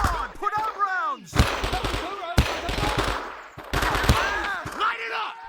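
Rapid automatic gunfire in the Vietnam War shooter Men of Valor, with loud, close bursts of machine-gun fire separated by short gaps while soldiers shout over the shooting.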